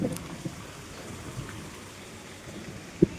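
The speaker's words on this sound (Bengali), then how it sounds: "ম্যাঘ শব্দ করছে, হুড়মুড় হুড়মুড় করছে, ম্যাঘ ডাক দিচ্ছে" Steady heavy rain patters down during a downpour, with low rumbling and a brief sharp crack near the end suggesting thunder from an approaching storm.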